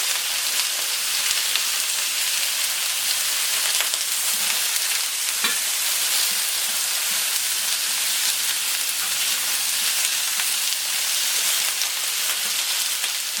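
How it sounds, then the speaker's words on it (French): Firm-fleshed potatoes, put in without being wiped dry, fry in a pan with a loud, constant sizzle and crackle that holds steady throughout with no talking. "ça grésillait beaucoup au départ, c'est parce que j'ai pas essuyé les pommes de terre"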